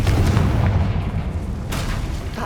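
A Confringo spell from Hogwarts Legacy explodes in a deep, rumbling blast that booms loudly, then fades into a long low roar with a second burst of crackling debris near the end.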